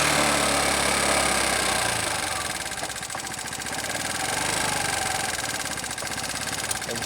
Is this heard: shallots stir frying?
no